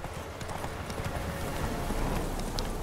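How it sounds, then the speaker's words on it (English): Hooves of a galloping horse in The Witcher 3 pound in a dense, continuous clip-clop, loud and close against a rushing wash of noise. "Damn, I can't believe I depleted all the horse's stamina."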